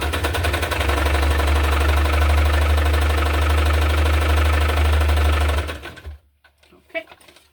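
A sewing machine runs a final stitching line through a hardcover junk journal, a loud, steady mechanical hum and rapid needle pulse up close for several seconds before stopping abruptly, followed by a few faint handling sounds.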